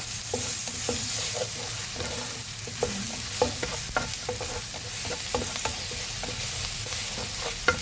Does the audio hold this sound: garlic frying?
yes